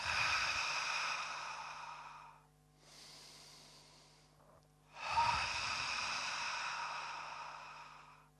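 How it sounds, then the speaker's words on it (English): Two breathing cycles of ha breathing: a loud breathy exhale with a voiced ha, then a quieter inhale, then another loud ha exhale. Close and alone, with no other talk. "I'll have you inhale, and then make the ha sound as you exhale."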